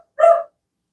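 A single short dog bark, close and clear, breaks an otherwise silent moment.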